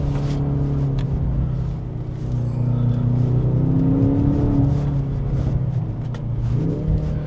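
A 2025 Mercedes-AMG GLC 63 S E-Performance, a 671 hp four-cylinder plug-in hybrid SUV, accelerates hard through the gears, its close engine note rising, dipping at shifts and climbing again.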